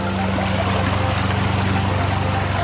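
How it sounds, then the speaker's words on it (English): Water from an artificial waterfall tumbles steadily over rocks, a loud, continuous broadband rush with a low hum beneath, heard close and alone without any talking. "you can see it just flowing over these rocks. Love how it twists and turns. I love this waterfall."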